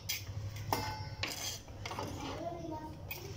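A spoon scrapes and clinks against a bowl while spicy food is moved during Indonesian home cooking, making several short metallic scrapes at close range with no speech.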